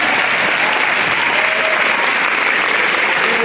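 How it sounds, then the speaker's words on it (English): A graduation ceremony audience claps in a dense, even burst of applause that holds steady and loud throughout. "short round of applause for Mr. Great, who made it to his daughter's graduation."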